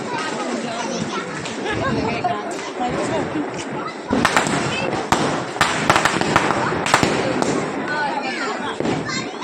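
Diwali firecrackers going off outdoors, a dense run of loud crackling bursts and sharp pops over several seconds, with people and children chatting nearby.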